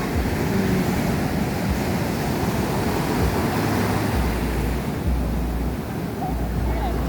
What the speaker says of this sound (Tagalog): Kasi malakas daw ang alon